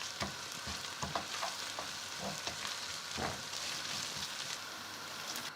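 Steady sizzling of onions frying in a pot, with scattered crackles and a few soft stirring clinks, close and moderately loud, no voices.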